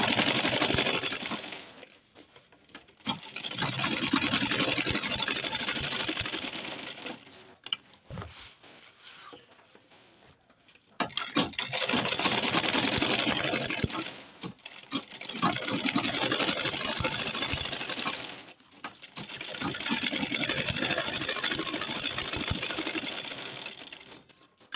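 Sewing machine stitching down a handmade jute bag, running in several long loud bursts of rapid mechanical clatter separated by short pauses.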